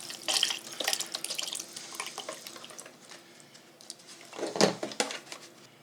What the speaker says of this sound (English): now we're going to add 32 ounces of chicken stock